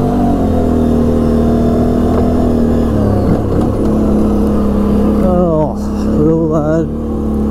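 A Can-Am Renegade 800 ATV engine hums steadily while riding a trail, loud and continuous with a shift in pitch partway through, and a voice speaks over it.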